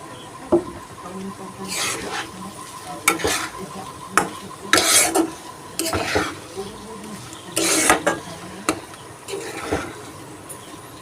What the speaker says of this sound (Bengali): ভালো করে দু মিনিট একটু নেড়ে চেড়ে ভালোভাবে মিশিয়ে নিয়ে